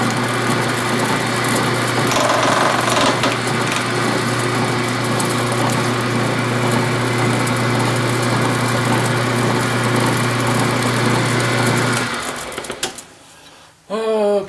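Woodturning lathe running steadily with a gouge against the wood, a loud continuous motor whine and buzz that stops near the end, leaving a few handling clatters.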